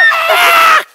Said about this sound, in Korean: 답답한 가슴이 뻥 뚫리도록 소리 지르기